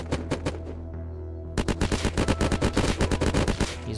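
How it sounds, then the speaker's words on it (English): Rapid bursts of automatic gunfire in the survival video game Unturned, with a string of quick shots, a short pause, then a longer, dense volley of evenly spaced loud cracks. "I'm getting shot at."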